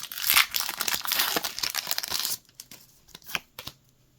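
Foil wrappers on Pokémon Journey Together booster packs crinkle and tear in a busy, close burst, then give way to quieter, sparse rustles and clicks as cards are handled.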